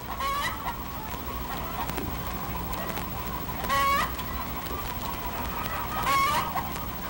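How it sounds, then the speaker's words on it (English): Barnyard fowl call out in a few short bursts of clucking and squawking, moderately close, with quiet rustling ambience in between and no talking. "Oh, that's the duck."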